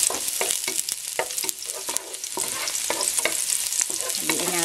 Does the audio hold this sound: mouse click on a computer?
no